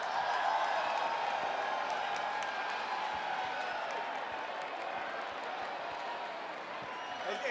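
Audience applause at a Mr Gay Pride España gala, a sustained roar of clapping and crowd noise heard from within the hall, steady and fairly loud, with a few whoops mixed in.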